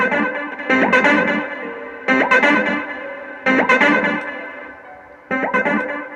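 Gritty synth melody distorted with a Sound Agonizer effect for a Hong Kong trap beat plays in four repeating bursts with brief gaps, loud and upfront, no talking.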